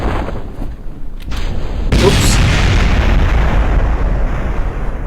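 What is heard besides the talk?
rocket engines exploding in video game Kerbal Space Program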